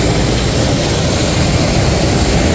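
Loud, steady roar of an airplane at Palembang airport, a broad continuous rumble with no gaps and no voices.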